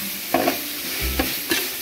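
Sugar being sautéed in a hot pan, a steady close sizzle with a few sharp spatula scrapes and taps against the pan.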